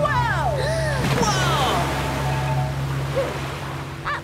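Rough water surges and splashes around a boat in a children's wildlife cartoon, a continuous loud rush with excited cartoon voices calling out over it.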